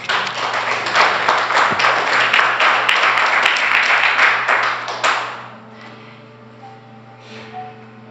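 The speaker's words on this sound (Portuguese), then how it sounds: "Você pode dar um aplauso ao Senhor?" A church congregation applauds during a worship service, a loud, full wash of clapping for about five seconds that fades away into a low, quiet hum.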